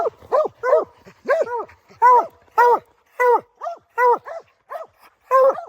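Hunting dogs that have treed a bear bark and yip repeatedly in short, rhythmic bursts close by, a dozen or so excited calls with brief pauses between them.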